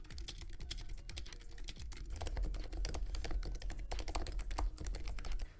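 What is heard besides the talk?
typing on a modified mechanical computer keyboard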